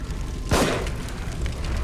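Single gunshot in The Evil Within horror video game, one sharp loud bang over steady game background noise.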